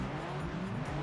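A race car engine revs steadily in the PS2 racing game Gran Turismo 3, a continuous droning tone that rises and wavers in pitch, moderately loud with no voices.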